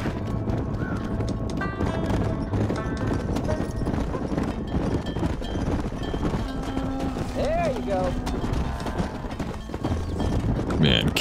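Horse hooves clip-clopping in the Red Dead Redemption game, a steady trotting beat under ongoing talk and background game sound, with a brief whinny partway through.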